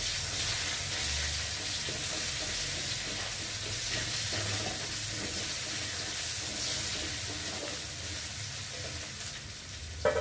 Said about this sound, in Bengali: এবার দিয়ে দেবো কেটে রাখা কুচানো পেঁয়াজ।